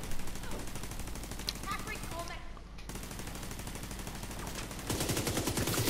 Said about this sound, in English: Call my turret onto him.